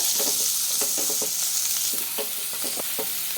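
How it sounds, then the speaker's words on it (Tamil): A spatula scrapes and stirs through cauliflower and potato in a hot pan, with irregular clattering strokes over a steady sizzle of frying. "இதை நல்லா ஒரு வதக்கு வதக்கி விட்டுடலாம்"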